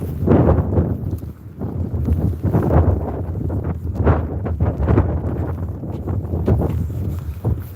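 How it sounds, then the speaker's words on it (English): Strong wind at Hollym Beach buffeting the microphone, loud rumbling gusts that swell and ease with rustling bursts throughout, continuous and close with no voices. "It's still quite windy, but not as bad as it was."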